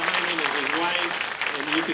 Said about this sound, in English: So could we give him a warm round of applause for really the global impact.